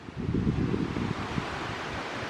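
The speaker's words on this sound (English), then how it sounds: "Waterfall." A small waterfall on a creek in the Alabama woods gives a steady broadband rush of falling water, close and fairly loud, with some wind buffeting the microphone and no talking.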